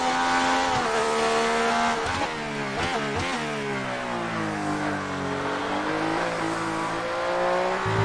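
Classic Formula 1 car in F1 2019 accelerating hard, engine note rising and dropping through gear changes, loud, close and continuous throughout.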